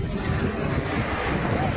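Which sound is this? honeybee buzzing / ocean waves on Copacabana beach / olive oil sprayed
ocean waves on Copacabana beach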